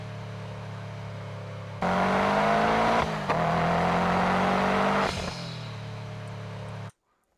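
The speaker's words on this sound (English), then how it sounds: "see if we can capture a little bit more of the turbo spool" Car interior with steady engine drone and road noise, then a louder surge of engine and turbo spool during a no-lift shift, briefly easing and swelling again before cutting off abruptly.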